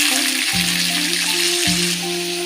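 Yardlong beans frying in hot oil give a steady, loud sizzle close by, with a droning background tone that steps in pitch underneath.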